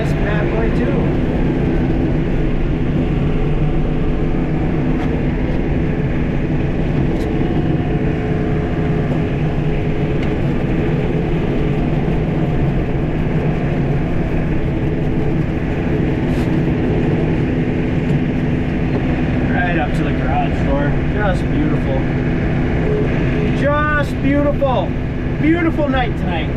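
A John Deere 4052R tractor running an inverted snowblower throws snow at night, a steady, loud engine and blower roar that holds throughout, with faint higher chirps and rattles near the end.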